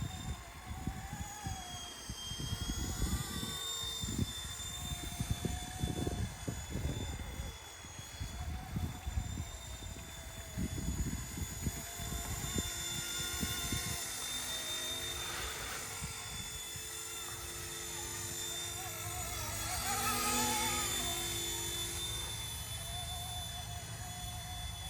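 An RC Era C189 MD500 remote control helicopter flies outdoors on a windy day, its small electric motor giving a steady high whine over gusty wind rumble that swells near the end.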